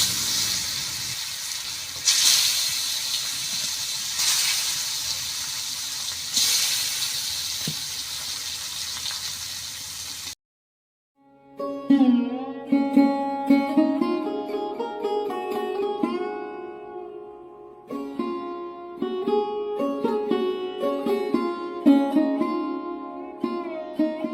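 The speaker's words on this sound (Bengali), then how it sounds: "আমি মাছ হলুদ মরিচ দিয়ে মাখিয়ে নিয়েছি, এখন ভেজে নেব রান্না করার জন্য" Pangas fish coated in turmeric and chili fries in oil, giving a loud, hissing sizzle with pulsing surges for about ten seconds before it cuts off and music takes over.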